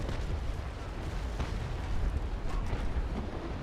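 Ship cannon fire in a naval battle between sailing frigates in Naval Action: a continuous rumbling roar of heavy booms and distant blasts, dense and sustained, with no talking.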